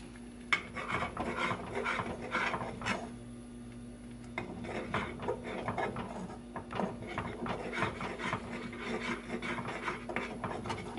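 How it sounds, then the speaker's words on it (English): A spoon scrapes and rubs steadily in a pot while broccoli cheese casserole sauce is stirred until the cheese melts, a continuous close rasping with a brief lull midway. "you keep stirring until the cheese is completely melted"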